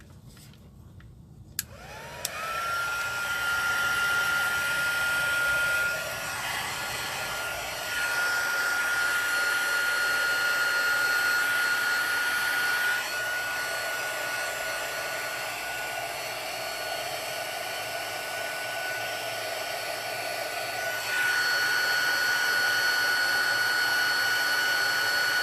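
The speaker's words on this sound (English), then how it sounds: "now we take the heat gun" A heat gun blows hot air over a stamped card, starting abruptly after a brief quiet moment and then running as a steady, loud, close-up whirring hiss with a constant tone for the rest of the time.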